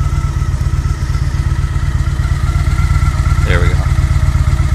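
Engine steadily idling after its idle speed was turned down slightly, driving an ultracapacitor power bank, with a constant low, close rumble throughout and a brief spoken remark near the end.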